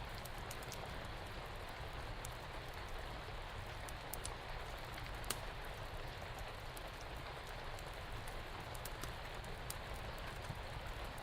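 Steady rain falling outdoors, a dense even hiss of drops on surfaces with occasional sharper patters, continuous and moderately loud without any voices.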